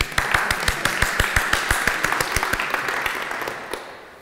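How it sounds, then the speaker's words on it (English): A personal growth workshop audience claps in a rhythmic, unison beat, sharp evenly spaced claps over a bed of scattered applause that fades out near the end. "That deserves a clap."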